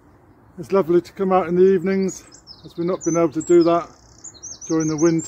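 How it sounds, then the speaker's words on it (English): Birds sing and chirp at an allotment in the evening, with thin, high calls scattered faintly behind a person talking close by. "But it's lovely to hear the birds sing."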